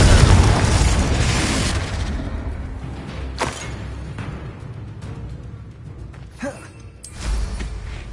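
Fire spell explosion in Hogwarts Legacy, a loud booming burst at the start that rolls and fades into a low rumble, with a few smaller pops and thuds afterward.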